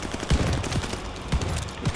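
Sniper rifle gunfire in Call of Duty: Vanguard on Xbox Series X, heard as a few sharp, heavy shots spaced about a second apart over a busy battlefield background of other weapon fire.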